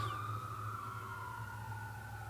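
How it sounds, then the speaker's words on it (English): An ambulance siren passing outside, a faint, steady wailing tone with a slowly falling pitch that fades gradually, set over a constant low background hum, with no talk. "Oh, that's an ambulance."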